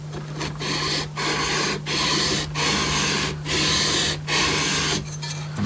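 A guitar fretboard being sanded to a 16-inch radius on a Harmony Stratotone-style build: seven even, rhythmic rasping strokes, loud and close, over a steady low hum.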